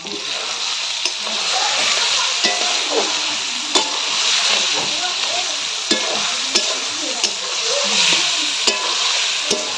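Goat meat frying in a pan gives a loud, continuous sizzle broken by regular sharp scrapes and knocks of a spoon as it is stirred.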